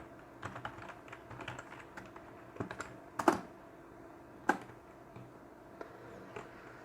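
Code being typed on a computer keyboard, a steady run of light key clicks with a few sharper, louder strikes, close up and with no voices.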